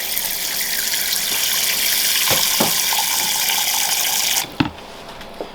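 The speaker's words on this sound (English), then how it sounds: "So lovely fresh water." Fresh water is poured in a reptile setup, a loud, steady gushing flow like an open tap that stops suddenly near the end, leaving a couple of faint knocks.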